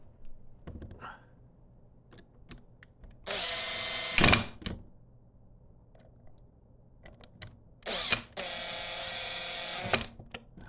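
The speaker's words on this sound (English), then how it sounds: "then we get the drill and we drill a bit" Power drill driving screws while a passage door handle is installed: two bursts of loud, high whirring, each about a second long, separated by quiet clicks and handling taps of small hardware.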